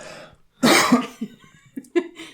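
One sharp, close cough bursts out, followed by a few smaller throat noises and breaths, in a quiet room during a tabletop game podcast.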